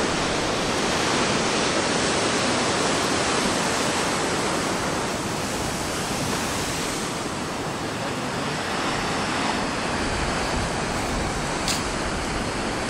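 Ocean waves breaking on the shore at Puerto de la Cruz, Tenerife, make a loud, continuous wash of white surf that roars steadily throughout with no voices.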